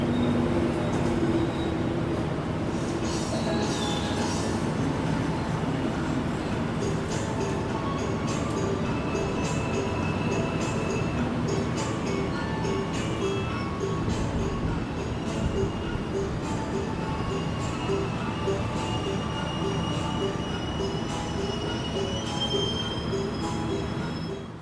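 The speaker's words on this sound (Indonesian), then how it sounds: "kereta api Bangunkarta tujuan Jombang yang saya naiki" Bangunkarta executive passenger train at a station platform, wheels squealing and rail cars rumbling steadily throughout, a continuous loud mechanical drone with high screeching tones and faint voices in the background.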